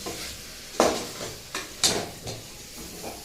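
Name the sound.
asafoetida, pepper and cumin sizzling in pan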